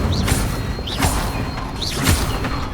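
Three quick whooshing bursts with rising shimmer ring out as the Incendio fire spell is cast in Hogwarts Legacy, each roughly a second apart over a constant rumbling game background.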